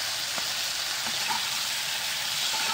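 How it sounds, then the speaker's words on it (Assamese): Ground mustard, ginger, garlic and chilli paste sizzles steadily in hot oil, a continuous close frying crackle with occasional stirring scrapes and no voices. "এইখিনি এতিয়া মই অলপমান গোন্ধ যোৱালৈকে ভাজি ল'ম"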